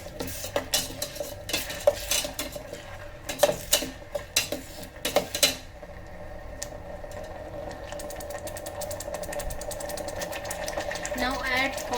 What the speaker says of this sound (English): Now give it a good mix.